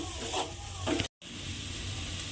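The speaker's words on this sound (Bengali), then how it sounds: "গুড়টা দেবেন দিয়ে এবারে এভাবে কিছুক্ষণ নাড়বো" Jaggery and coconut filling stirred in a hot pan, with a soft steady sizzle and a couple of scraping strokes early on, briefly cut to silence before the sizzle resumes.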